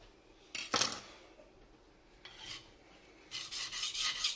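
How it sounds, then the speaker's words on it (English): A knife blade scrapes across a sharpener in freehand strokes, spine turned toward the sharpener: a few separate rasping passes, close and fairly quiet, with pauses between them and no voices. "Another way to sharpen is with the blade spine towards you."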